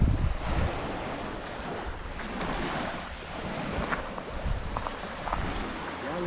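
Surf washes steadily onto a Florida beach, a continuous broadband roar of breaking waves with wind buffeting the microphone, loud and close throughout.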